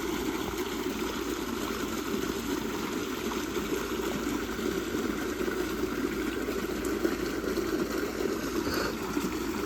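Water gushes continuously from a farm pump into an irrigation channel, a dense, steady rushing splash heard close up with a faint motor hum beneath, no pauses or talk.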